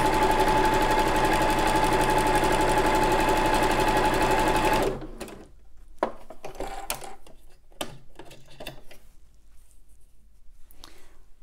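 A sewing machine runs steadily for about five seconds, sewing an overcast stitch on pyjama fabric, then stops, followed by quieter handling clicks and rustles.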